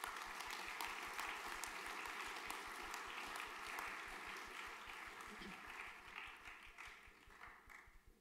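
Audience at a junior school graduation ceremony clapping for a student, a steady moderate round of applause heard from within the hall, gradually thinning toward the end.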